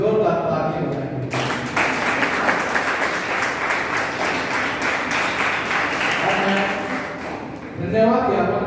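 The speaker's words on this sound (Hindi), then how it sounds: "एक बार सभी प्रतिभागियों के लिए जोरदार तालियां बजाएंगे।" Loud, sustained applause from the audience at a B.Ed. college session, a dense wash of clapping lasting several seconds before fading, with voices and speech around its start and end.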